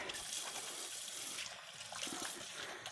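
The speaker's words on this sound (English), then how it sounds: "I'll wash my hands" Hands washed under a running kitchen tap while preparing onigiri: a soft, steady stream of water with faint splashing shifts as the hands move through it, heard fairly quietly and without any talking.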